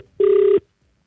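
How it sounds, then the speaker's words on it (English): A single electronic telephone ring, a steady loud tone lasting about half a second and then cutting off, heard alone before a live radio call-in conversation. "There we go. It's ringing."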